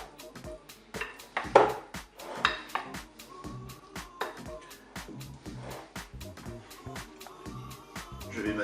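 A Piedmontese salad with potatoes gets mixed in a bowl, a utensil knocking and scraping in a fairly regular rhythm of soft, close clinks and taps.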